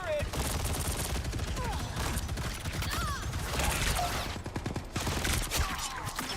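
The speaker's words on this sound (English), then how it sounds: "Punisher's got some sort of nasty turret" Rapid, continuous turret fire from the Punisher in a video game, a dense rattling burst that runs throughout with mechanical clatter in the background.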